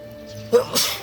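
A single sharp human sneeze bursts out midway, outdoors in a spring vegetable garden among peonies and buzzing bees, followed by a brighter breathy trailing sound.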